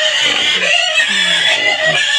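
Loud, busy clucking from several hungry hens, continuous and close, with short low grunts mixed in beneath the chatter.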